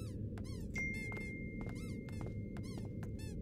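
A squeaky toy in the Broken Sword video game gives a rapid run of sharp, high squeaks in irregular bursts over a low, steady background rumble, with no talking.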